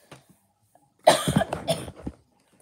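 A single harsh cough bursts out after a couple of soft clicks and breaths, close and fairly loud, breaking into several rough spurts before fading.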